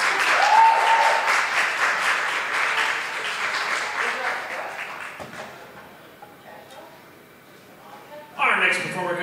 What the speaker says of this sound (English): Big round of applause for Lauren Osborne.